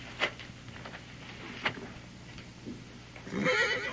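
A horse whinnies a couple of times in short, fairly faint bursts within an outdoor Western scene, with a scuffle of movement near the end.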